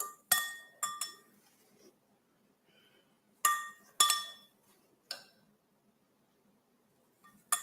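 Pieces of fruit drop into a glass cup, giving sharp, bright clinks in scattered pairs and singles with quiet gaps between, close by and crisp.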